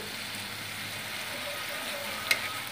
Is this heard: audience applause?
no